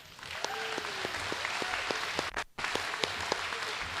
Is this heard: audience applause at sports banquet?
yes